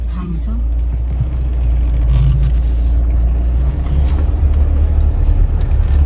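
A car's engine hums low and steady throughout, heard from inside the vehicle on a road trip toward Gaganbawada, with people talking over the constant rumble.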